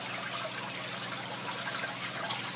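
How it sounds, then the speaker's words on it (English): Water flows from a sump tank into the overflow valve of an aquaponic biofilter, making a steady, soft trickling hiss that stays even throughout with no talking. "the water comes in from the sump tank"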